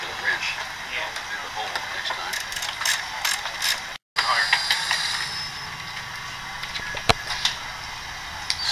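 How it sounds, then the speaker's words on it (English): A regular wrench tightening bolts during work on steam-bent mast hoops for a skipjack, a steady run of quick ratcheting clicks at close range, broken by a brief pause, with people talking alongside. "Just use a regular wrench."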